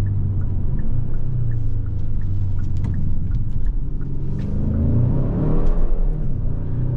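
2023 Hyundai Sonata N-Line with an 8-speed wet dual-clutch gearbox, its engine droning loudly and rising in pitch as it accelerates, with faint tire chirps as it loses traction.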